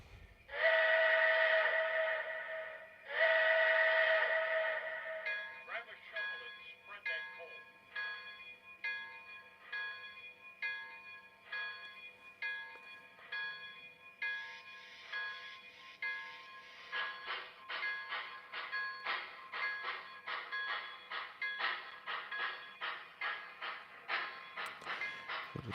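Model trains run on a home layout, with Bachmann O gauge locomotives mentioned, giving repeated rhythmic clacking and chugging with tonal horn or bell-like sounds near the start, steady and close throughout without talk.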